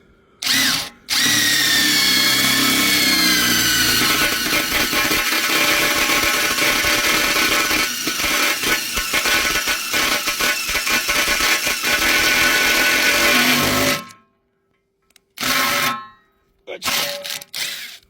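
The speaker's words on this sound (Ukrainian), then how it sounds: "Свердлим ще раз." A power drill whines loudly and continuously as it bores through 8.5 mm steel for about thirteen seconds, then stops; a few short bursts of drilling follow after a pause.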